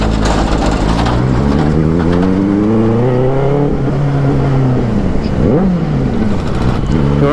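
Traffic jam on a Hyderabad road: loud, close engine rumble fills the air as vehicles idle and rev, with engine pitches swelling and dipping over a constant roar.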